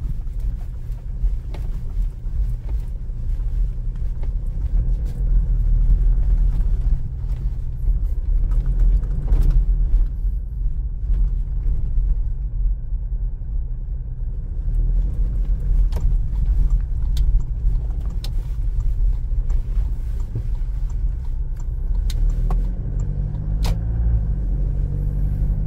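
A 2017 Toyota SW4 travels a very rough dirt road, its steady engine and road rumble filling the cabin while light ticking rattles from the rear come through faintly and irregularly.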